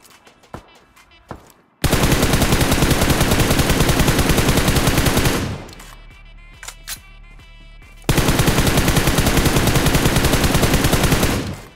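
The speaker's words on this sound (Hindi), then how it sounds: "सामने स्क्वाड हाउस में कुछ बंदे दिखाई देते हैं जो कि कर रहे हैं फायरिंग" A mobile battle royale game erupts in loud automatic gunfire at a squad house, a few scattered shots, then long continuous bursts, a brief lull with lighter firing, then another sustained volley.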